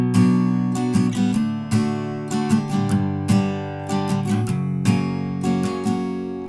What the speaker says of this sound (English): You're gonna play each chord for one strumming pattern,